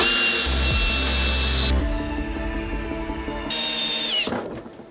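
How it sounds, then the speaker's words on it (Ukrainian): A Kress KUA71 cordless drill driver drives a 300 mm lag screw with a loud, steady motor whine that shifts pitch as the load and speed change, then cuts off near the end. "пробуємо глухарь 300 мм на 8"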